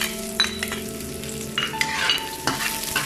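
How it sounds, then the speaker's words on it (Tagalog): Onion sautéing for chopsuey, a steady sizzle and frying hiss in a pan with occasional spoon stirs and clinks against the metal, close and fairly loud, with no talking. "Next guys, let's saute the onion."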